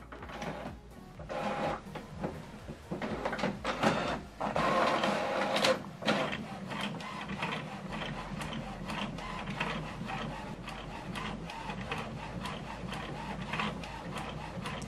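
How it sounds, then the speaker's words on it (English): An HP Officejet Pro 8135e inkjet printer prints a photo on glossy paper, with continuous mechanical whirring, rapid rhythmic clicks and ticks of the print head shuttling, and a few louder feed clunks, close and alone with no talking. "So you can command the printer to print from the particular photo paper you have on the printer."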